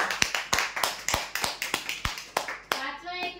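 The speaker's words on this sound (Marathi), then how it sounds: "जोरदार टाळ्या होत्या" At a lottery prize draw, a dozen or so sharp handclaps ring out at a slow, even beat, and a voice begins speaking just as the clapping stops.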